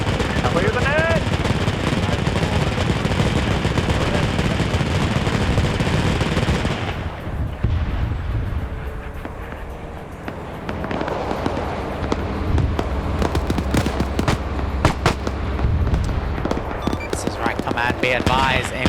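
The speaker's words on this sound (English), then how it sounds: "The artillery just hit me." Artillery fire and explosions in a WW2 German-versus-Soviet survival video game, dense rattling gunfire and blasts for several seconds, then a dull lull followed by sharp scattered shots and bursts.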